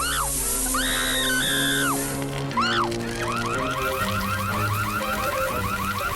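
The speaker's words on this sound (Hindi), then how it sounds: "फायर अलार्म ने अपना कमाल दिखा दिया।" An alarm wails with rising and falling electronic tones and repeated chirping bursts, loud and continuous, with background music running beneath it.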